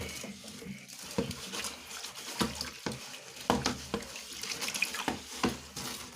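A water tap runs steadily while a bin cage is washed with soap, a constant close splashing rush broken by irregular louder spatters and knocks as the cage is handled.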